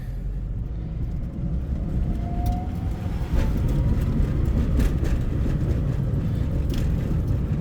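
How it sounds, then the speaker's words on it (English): Daihatsu Mira TR-XX Avanzato R turbo kei car driving over rough, bumpy roads, with a steady low engine and road rumble throughout and occasional knocks and rattles from the small suspension. "The turbo spools nicely and gets you up to 35 miles an"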